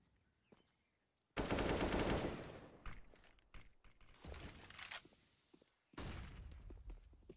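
Heavy automatic gunfire from Counter-Strike during a professional Astralis vs ENCE match at IEM Beijing 2020, loud sustained bursts broken by short gaps and a final burst, with mechanical weapon clicks between volleys and no talk.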